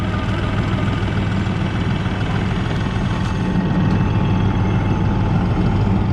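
A New Holland T3.70B common-rail tractor engine runs steadily, a loud, close, even diesel drone with a strong low hum and no change in pace.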